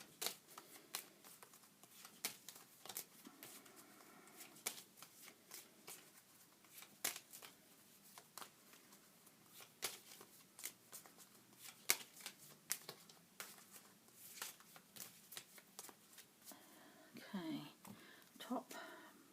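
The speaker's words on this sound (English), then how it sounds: "Shuffle each deck, take the top and the bottom." Cards are riffled and shuffled in repeated crisp bursts, close and quiet, with soft whispered speech between them.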